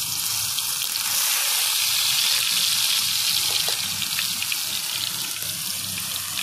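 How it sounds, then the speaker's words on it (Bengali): Onion and garlic paste sautéing in a pan, a loud, dense, continuous hiss of frying up close, steady throughout with no voices. "পেঁয়াজ আর রসুন বাটা একসঙ্গে একটু ভালো করে কষিয়ে নেব।"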